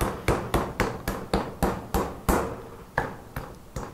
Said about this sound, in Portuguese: martela a carne que você vai amaciar ela com toda certeza